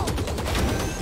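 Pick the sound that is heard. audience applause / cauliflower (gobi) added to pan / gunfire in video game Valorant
gunfire in video game Valorant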